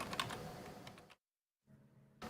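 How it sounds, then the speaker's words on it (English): Close, quiet clatter of typing on a computer keyboard, a dense burst of keystrokes that stops abruptly, a brief silence, then softer keyboard noise before typing resumes. "Casey, I can never find a proper gate setting to cut out the typing"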